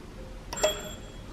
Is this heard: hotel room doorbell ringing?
yes